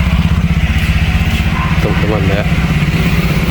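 A Honda Beat scooter engine idles close by with a smooth, even pulsing putter after a new CVT fit, while someone talks over it.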